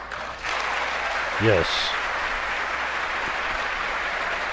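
Audience applause in the chamber during a State of the Union address, a steady wash of clapping held throughout with a brief spoken word over it.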